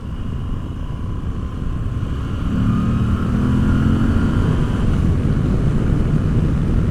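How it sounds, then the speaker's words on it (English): A Moto Guzzi V85TT adventure motorcycle engine runs while riding, giving a loud, continuous throaty rumble that pulls smoothly and rises slightly in pitch over several seconds, with wind noise and no talk. "It's got kind of just a unique sound to this motorcycle as well."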